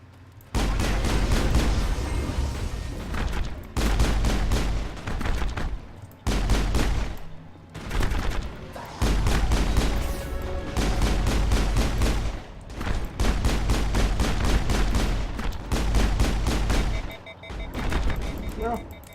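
Repeated bursts of gunfire in the video game Mass Effect, loud and dense volleys separated by brief pauses, with a voice talking among the shots.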